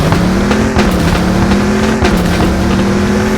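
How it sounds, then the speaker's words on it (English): Hellcat car engine in a racing video game, a loud, steady, gritty drone whose pitch rises and dips with throttle, holding continuously with small shifts and no talking. "I think the best sounding car in this whole game is gotta be the"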